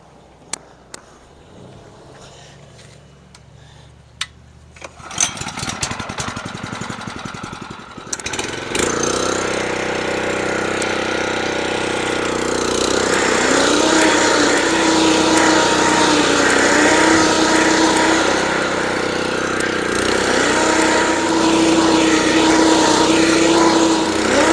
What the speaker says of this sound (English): I'm going to give it one more scalp with the California Trimmer